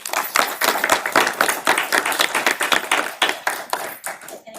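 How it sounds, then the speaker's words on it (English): Audience applause for newly elected board officers at a regular board meeting, a small group clapping close by in quick uneven bursts that fade toward the end. "let's give them a big round of applause"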